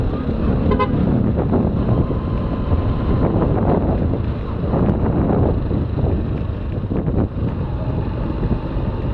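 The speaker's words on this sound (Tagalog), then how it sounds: "Ganda ng busina ni kuya." A car horn toots amid loud, steady road and wind rumble, with a brief higher-pitched honk near the start.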